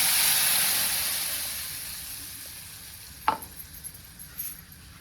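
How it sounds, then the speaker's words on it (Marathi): A ground chutney mixture for a fasting-day recipe is poured into a hot pan of crackling cumin, giving a broad sizzle that slowly fades, then a single sharp clink and a few soft spatters near the end. "आता हे जे मिश्रण आहे मिक्सरमधली भांड्यातलं ते सगळं ह्यात ओतून घेतो"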